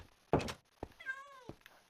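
A Minecraft cat gives a short, faint meow among a few soft thumps and clicks, the mew rising then falling in a quiet indoor setting.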